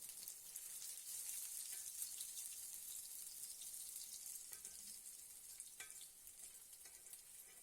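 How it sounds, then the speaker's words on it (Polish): Soft, steady sizzling of potato pancakes frying in a hot pan, a continuous crackling hiss with no voices. "przekręcamy je na drugą stronę i smażymy tak na złoty kolor"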